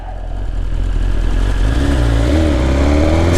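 A fully modified superbike engine revs loud and close, a dense continuous roar whose pitch climbs and wavers through the final seconds, with no talk over it.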